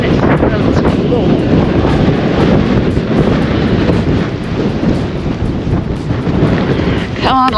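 Strong wind on the Pembrokeshire coast buffets the microphone in a continuous loud, rumbling roar, with a voice briefly at the end.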